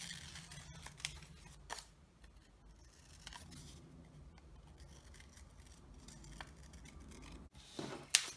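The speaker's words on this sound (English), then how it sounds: "cut an oval out of the rest of the paper" Scissors snip through black construction paper as an oval is cut out, giving quiet, close crisp cuts at irregular intervals with soft paper rustling in between, and no one speaking.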